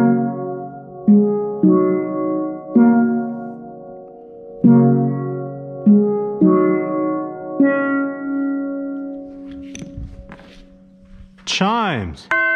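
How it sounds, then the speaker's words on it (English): Cello steel pans playing a video game music theme: lower, round struck notes, each ringing and decaying in a bouncy melody, followed near the end by a few scattered sounds and a sliding pitch sweep. "Cello steel pans."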